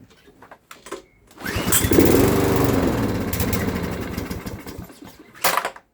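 A faulty lawn mower engine kicks into life after a few knocks, runs roughly for a few seconds, then sputters out, followed by a brief second burst before falling quiet.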